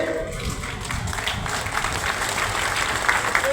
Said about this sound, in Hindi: तालियां बड़ी करिए।